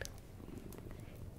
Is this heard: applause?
no